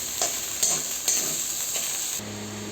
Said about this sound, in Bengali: টমেটো কুচি দিয়ে আরও ভালো করে নেড়ে নিচ্ছি যাতে মশলাটা পুড়ে না যায়